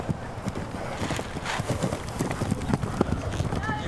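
Hooves of the Budweiser Clydesdale horses clip-clop steadily at the police horse stables in City Park, New Orleans, a continuous rhythmic clatter with a faint whinny near the end.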